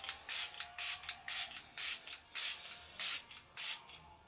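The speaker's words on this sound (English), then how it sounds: "So I'm going to set my face with the Catrice Prime and Fine Dewy Glow Fixing Spray." Catrice Prime and Fine Dewy Glow Fixing Spray is misted onto a face in about eight short, close hissing pumps, evenly spaced and quiet.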